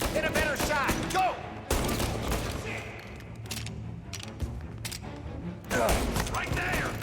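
Gunfire in the video game Mafia Definitive Edition: loud bursts of rapid shots and booms crackle across the scene, mixed with in-game voices calling out over the shooting.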